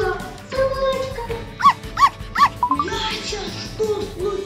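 A dog gives a few short yips and whimpering barks amid a busy household, with background talk and clatter around it.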